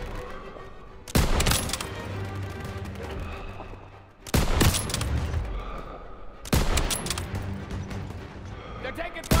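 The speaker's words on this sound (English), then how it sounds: "They're taking fire from behind." Heavy gunfire in the World War II shooter Call of Duty: WWII on PS5, three loud bursts of shots and blasts separated by quieter lulls, with voices talking between them.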